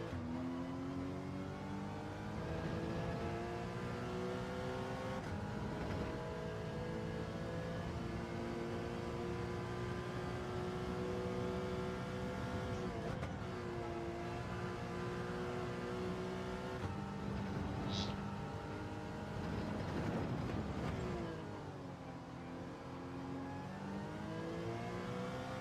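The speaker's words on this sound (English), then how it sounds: "This track and this car allows you to go full throttle on many occasions" A Gr.4 race car circling Autódromo de Interlagos in a racing video game, its engine droning at full throttle with rising and falling pitch through gear changes, loud and steady throughout, alone without talk.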